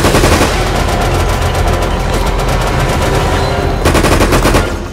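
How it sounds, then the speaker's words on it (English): A submachine gun in Resident Evil: Operation Raccoon City fires loud, sustained automatic bursts at close range, rapid shots running almost without pause and then picking up again near the end. "What is this? Submachine gun?"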